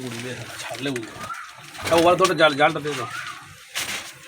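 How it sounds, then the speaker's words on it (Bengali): Pigeons coo in throaty, rolling bursts close by, with a person speaking over them. "দেখুন আপনারা পায়রা দুটো ছেড়ে দিচ্ছে"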